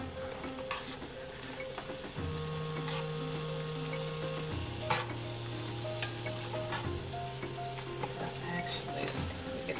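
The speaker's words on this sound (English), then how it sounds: "I've already put a couple of tablespoons of the olive oil in my cast iron skillet" Ground turkey fries in olive oil in a cast iron skillet with a steady close sizzle and crackle, while a low electrical hum shifts pitch in the background.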